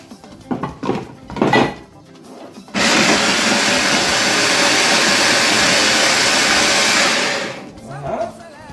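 Electric food chopper mincing a stock cube with garlic: a loud, steady motor whir runs for about five seconds, with light knocks and handling noises before and after.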